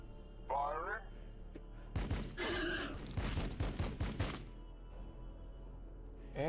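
Gunfire from units in Warhammer 40k: Battlesector, a rapid burst of cracking shots in the middle, with voiced unit lines heard before and during the volley.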